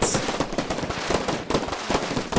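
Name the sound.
turrets firing in modded Minecraft video game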